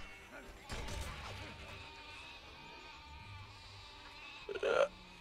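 A sheep bleats in the video game Overlord amid game sounds and a thud, the bleat coming briefly and clearly near the end while a person talks.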